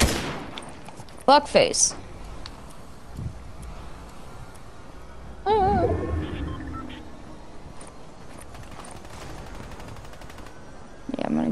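Gunfire in a Fortnite match: several short bursts of shots with sharp bangs and swelling blasts, some louder and closer, scattered across the stretch with a voice shouting between them over a windy background.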